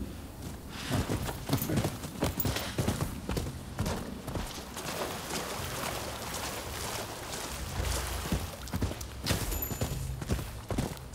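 Horse hooves clip-clop steadily in the video game Rise of the Ronin, a continuous rhythmic trotting beat at moderate level with no talk.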